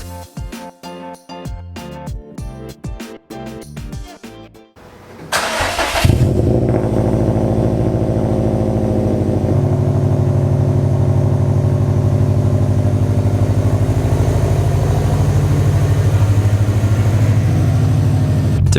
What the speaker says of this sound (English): Just a little cold start